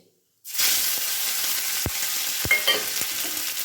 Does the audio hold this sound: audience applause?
no